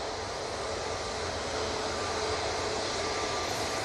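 An EasyJet airliner on short final approach at Manchester Airport produces a steady, broadband engine roar that holds at an even level throughout, with no voices heard.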